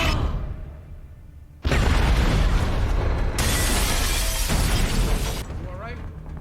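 Loud, sustained booming and crashing from ships firing during a space battle in The Expanse, with a dull rumble that bursts into heavy blasts and continues as dense, roaring impacts.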